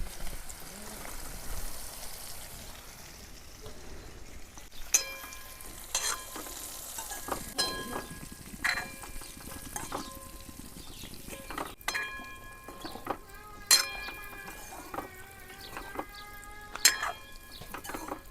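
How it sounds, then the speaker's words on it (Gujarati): Stuffed spiny gourds (kantola) frying in oil over very low gas with cumin and garlic, a soft bubbling sizzle with repeated clinks and scrapes of a spoon stirring in the pan, close by. "કંટોલા તેલમાં નાખી દીધા છે,"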